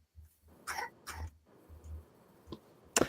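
Two harsh coughs close together, followed by a few quieter throat sounds and a sharp click at the end, fairly faint and close.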